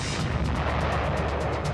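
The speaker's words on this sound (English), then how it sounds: "within moments, a series of explosions rip through the SS Viking." A series of explosions aboard the sealing ship SS Viking, rendered as a dense, roaring blast with rapid repeated booming bursts throughout, loud and continuous with no speech.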